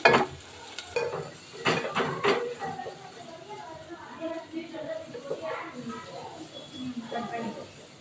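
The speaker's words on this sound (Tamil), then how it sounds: "நல்லா வெங்காயத்தை வதக்கிக்கோங்க. நல்லா ப்ரௌனிஷாக நல்லா வெங்காயம் வதங்கணும்." Onions browning in a pan for chicken biryani made with seeraga samba rice, with stirring scrapes and a low sizzle under a voice talking in the kitchen.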